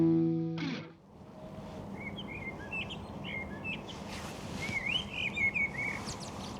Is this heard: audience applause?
no